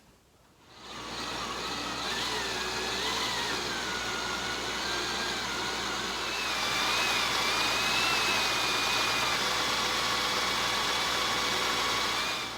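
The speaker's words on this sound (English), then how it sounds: "drill them out so I can bolt this bracket on" A steady high-pitched drill whine boring a 1/8-inch pilot hole in a metal bracket runs continuously after a brief start, its pitch wavering slightly over a constant motor hum.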